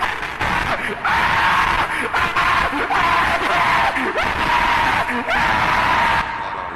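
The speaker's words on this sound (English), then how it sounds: "I am going to scream at the microphone very loudly" A person screams loudly and repeatedly straight into a microphone, several long, harsh, distorted yells in close succession with brief breaths between them.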